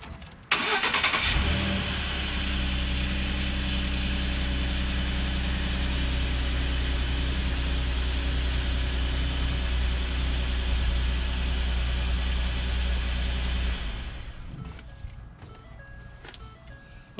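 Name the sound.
truck engine starting and idling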